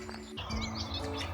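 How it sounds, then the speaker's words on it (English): A garden warbler singing nearby in Wiltshire, a quick run of bright chirping, warbling notes over faint low background hum. "I think it might be a garden warbler singing right in front of me"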